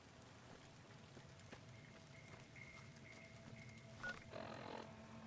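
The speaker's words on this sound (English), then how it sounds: "Oh, it's raining." Rain falling in the Fallout: New Vegas game world, a steady soft hiss of drops that runs through the whole stretch alone, with faint tonal game sounds on top and a brief louder patch near the end.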